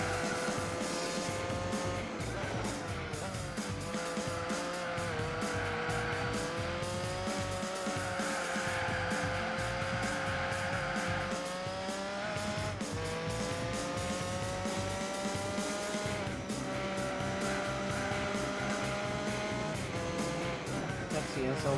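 Mercedes-Benz SL65 racing on a speedway in Gran Turismo 4, a loud sustained engine drone with gently shifting pitch and faint tyre squeal, steady throughout with a voice talking over it.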